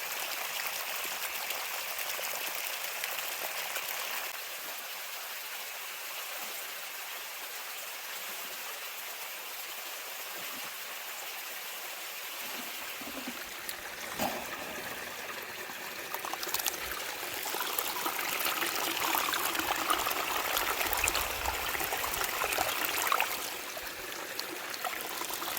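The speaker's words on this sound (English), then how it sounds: "the water washes all the light dirt away" Water washing light dirt out of a gold pan at a drift mine, a steady broadband swish and trickle that swells louder in the second half with sloshing surges, no talking.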